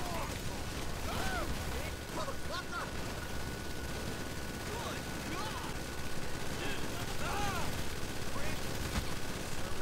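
Gunfire in GTA Online on a beach overrun by zombies crackles in a dense, continuous stream of rapid shots over a busy din of game noise and voices.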